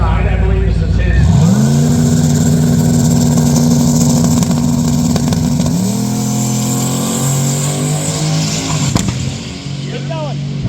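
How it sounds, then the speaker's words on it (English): A 1989 Pontiac Firebird engine revs up loud and close, holding a steady droning pitch, then shifts to a lower tone as it accelerates past, with crowd noise and voices underneath. "Douglas Whiting coming up in his 89 model Pontiac Firebird next on the right side"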